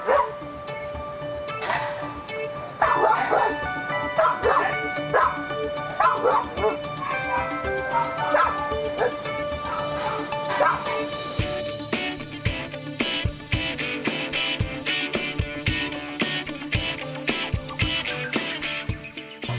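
Several dogs bark, yip and whimper in a burst of overlapping, excited noise as they are led out of their kennels, loud and continuous, with clattering and a few voices mixed in.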